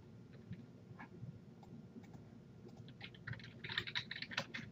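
Light, irregular clicks of keys on a computer keyboard as a title is typed, soft and close, growing slightly busier toward the end with no talking.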